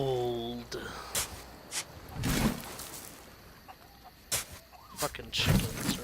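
Chickens cluck in the Sea of Thieves video game, short scattered fowl calls at moderate distance over a noisy game background, with some speech-like sounds mixed in.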